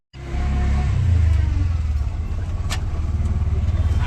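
An auto rickshaw engine starts up and holds a steady, loud, low rumble with a slight rhythmic throb, close to the listener and alone for about four seconds.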